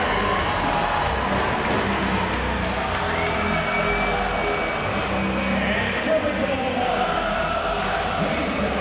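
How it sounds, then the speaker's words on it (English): A hometown crowd at a Texas women's volleyball match cheers on its feet in a continuous roar of shouts and noise, with a commentator talking over it. "The crowd on their feet"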